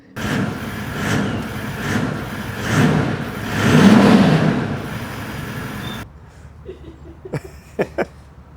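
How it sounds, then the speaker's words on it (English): A Toyota 79 Series 4WD truck's stock exhaust revs up and settles in a few rising swells, then falls to a low idle with a couple of sharp clanks near the end. "let's just get a sound of the old 79 exhaust"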